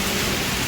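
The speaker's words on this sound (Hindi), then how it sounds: "बारिश बहुत तेज़ हो रहा है।" Heavy rain pours steadily near a riverside resort and bridge in Deulti, Howrah, West Bengal, a dense, even hiss of drops in a brief burst.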